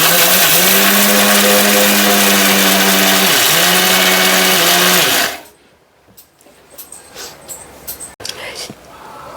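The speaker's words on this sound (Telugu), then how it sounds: "చల్లార్చుకున్న వాటిని అయితే మిక్సీ పట్టుకొని పౌడర్ అయితే చేసేసుకోవాలి" A mixer grinder whirs loudly as it grinds cooled roasted ingredients into powder, a steady motor drone with a dip in pitch midway, then cuts off abruptly, leaving faint rattles and handling noises.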